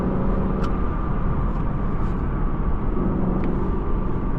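A 2018 Lexus LC 500's V8 engine heard from inside the car while driving: a steady, deep low rumble with a faint whine, continuous and even, with no one talking.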